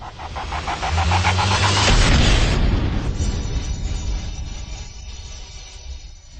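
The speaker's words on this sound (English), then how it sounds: "Fire the cannon." A heavy cannon blast booms and rumbles, then a long roaring decay trails off; loud and close, with no voices.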